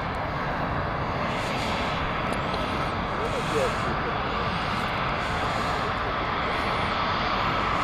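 A Jet2 airliner at Stansted Airport produces a steady, continuous broadband engine roar that holds at an even loudness throughout, with no clear rise or fade.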